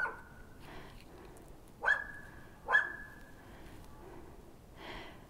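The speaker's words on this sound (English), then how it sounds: "Sorry about the barking dog." A dog barks in the background of an outdoor medlar harvest, three or four separate sharp barks spaced about a second apart, moderately distant against quiet surroundings.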